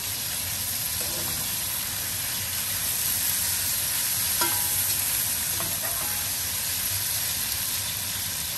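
Onions fry in a hot pan for Bengali kosha mangsho (mutton curry), a constant close sizzle and hiss with a few faint scrapes of stirring, and no talking.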